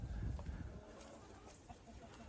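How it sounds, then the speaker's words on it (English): A rooster crows somewhere on a rural property, faint and distant beneath quiet outdoor ambience, with a soft fowl call rising briefly early on. "That rooster's something else."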